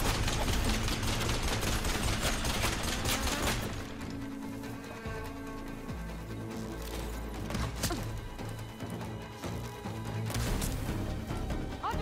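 Heavy gunfire in the video game Horizon Forbidden West, with dense rapid bursts and crashing impacts at first, then sparser shots and thuds over a sustained loud battle bed.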